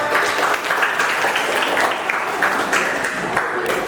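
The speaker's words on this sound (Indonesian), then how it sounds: "tepuk tangan untuk kita semua" A classroom of students in a geography lesson applauding together, a dense, steady patter of clapping that lasts the whole few seconds at close range.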